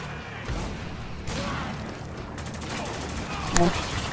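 Gunfire in the video game Spec Ops: The Line, with scattered shots and bursts at moderate volume over a busy battle background and a sharper shot near the end.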